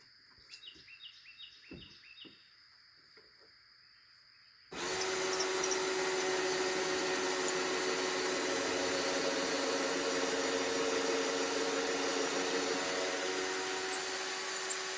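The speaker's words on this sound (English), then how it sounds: "Now see here, you put the drill." A power drill driving into wood while building a hoop coop for chickens: birds chirp softly at first, then a loud, steady drilling roar starts at about five seconds and runs unbroken to the end.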